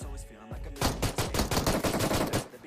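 Rapid gunfire in the battle royale game PUBG, a burst of repeated close shots in quick succession that starts after a brief lead-in and keeps going to the end.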